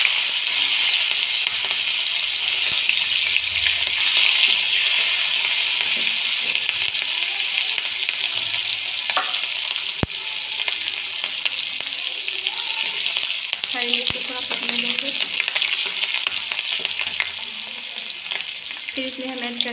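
Chopped green chilies and a bay leaf fry in hot oil for a dhaba-style egg curry, giving a continuous close-up sizzle and crackle with a few sharp utensil clinks.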